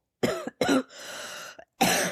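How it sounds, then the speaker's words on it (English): Several sharp coughs, a first pair close together and another burst a bit later, heard nearby with a soft, breathy rasp between them and no speech. "Just allow that cough to be there"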